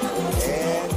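NASCAR race car tires skid and squeal with a loud, sustained screech over a roaring engine, heard close and continuous for about a second.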